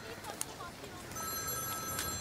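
A telephone rings with a thin, repeating electronic tone that begins midway and carries on under muffled voices and room noise at moderate distance.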